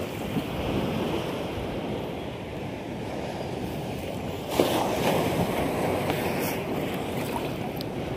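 Ocean waves roll and rush continuously around a small fishing boat in shallow water, a broad steady roar with wind buffeting the microphone and one brief louder surge.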